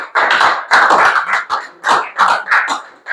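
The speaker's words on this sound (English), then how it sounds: "give her a big round of applause" Classroom applause for a grade 10 student's science presentation comes as a series of distinct, evenly spaced clap bursts, loud and close, about seven in quick succession.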